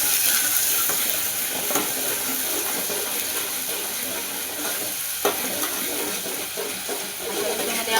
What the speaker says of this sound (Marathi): आता आपल्याला हे वाटण ह्याच्यामध्ये टाकून घ्यायचंय, मिक्स करून घेते छान असं